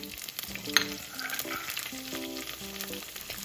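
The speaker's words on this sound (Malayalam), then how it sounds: "ഇപ്രാവശ്യം എണ്ണ ചൂടായി വരുമ്പോൾ നമ്മൾ ചെറിയുള്ളി വെളുത്തുള്ളി ഇഞ്ചി ഇതെല്ലാം ചതച്ചാണ് ചേർക്കുന്നത്" Crushed shallots, garlic and ginger sautéing in hot oil for a tapioca dish, a steady close sizzle and frying crackle throughout, with stirring and faint background music, no talking.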